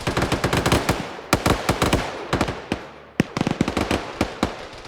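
Grenades and gunfire explode in rapid, dense bursts throughout a shooter video game battle, with sharp loud blasts clustering and pausing briefly before another volley.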